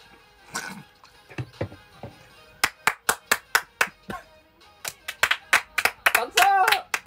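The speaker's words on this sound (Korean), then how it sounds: "예, 박수, 박수." Hands clap during an indoor livestream, starting with a few scattered claps and then becoming a quick, fairly regular series of sharp, close claps, with brief voices and laughter mixed in.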